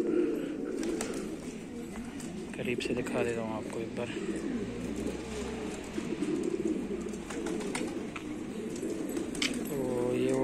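Wild pigeons coming to drink water at a feeding spot, soft throaty coos and a few brief calls close by, while someone talks over them most of the time.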